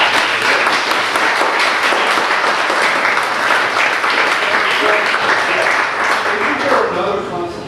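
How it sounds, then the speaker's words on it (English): An audience applauds after a legislative debate, with steady, dense, loud clapping from a room full of people that holds for several seconds and fades near the end, with a few voices audible underneath. "I just think both people should get an applause"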